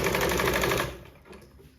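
A sewing machine rattles in a fast, even stitching burst while sewing a blouse neck cross piece, stopping abruptly partway through and leaving quiet afterward.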